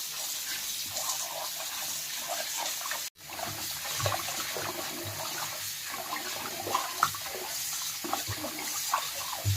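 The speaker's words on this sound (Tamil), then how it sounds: "தண்ணி விட்டு இந்த வீடியோவில் காட்டுற மாதிரி நல்லா அலசி எடுத்துக்கலாம்" Fish being rinsed by hand in water with turmeric and salt for a fish fry, a steady wash of running and sloshing water that continues throughout, close and moderately loud with no talking.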